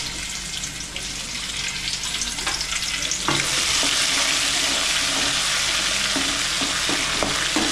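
Peanuts fry in hot oil with a steady, close sizzle that thickens halfway through, broken by occasional scraping taps of stirring.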